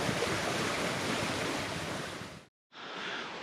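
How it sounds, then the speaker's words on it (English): A babbling creek in flood at Granite Creek in Alaska's Chugach country rushes in a steady, broad wash of water noise, cut by a brief total silence before resuming. "We're relaxing here next to a babbling river."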